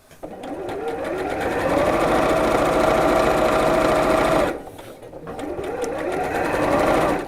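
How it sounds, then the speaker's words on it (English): A domestic sewing machine stitches fabric with pale thread, a loud close mechanical whir running steadily for several seconds, briefly easing, then resuming, with a person speaking over it. "I'm doing this in a pale thread so you can see where I'm sewing"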